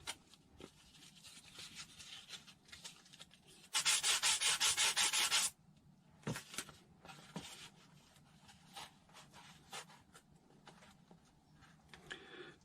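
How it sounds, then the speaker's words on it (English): Steady scratchy rubbing of sandpaper on wood, with one loud, sustained rasping burst in the middle and quieter strokes around it. "No point in showing you me sanding it"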